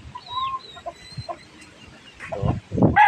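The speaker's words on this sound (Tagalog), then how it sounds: "Lahat puro sisiw na. Maliliit na." Young chicken chicks squabbling, thin high peeps and chirps over low clucking, with louder bursts of scuffling and squawks near the end, close and lively.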